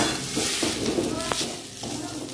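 Semolina (rava) roasts and is stirred in a pan over low heat, giving a continuous soft hiss with gentle scraping and rustling throughout and no pauses.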